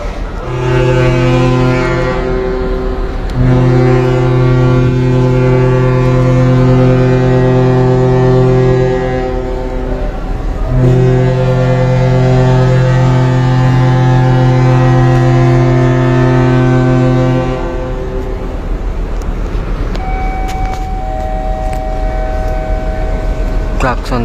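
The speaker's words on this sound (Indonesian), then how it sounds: "klakson 2 kali udah dibunyiin, berarti setengah jam lagi nih ini kapal diberangkatin." Deep, loud horn blasts from the passenger ship KM Nggapulu in port before departure: two long sustained blasts separated by a brief gap, then fading into harbour noise with a fainter tone at the end.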